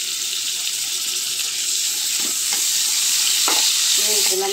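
Onions sizzle steadily in hot oil as the base for a rohu fish curry, with a few stirring scrapes breaking through the continuous close frying hiss.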